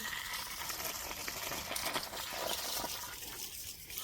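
Garden hose pipe running water over plants in a Punjab village yard, a steady, close gushing splash that continues unbroken for the whole stretch, with no voices over it.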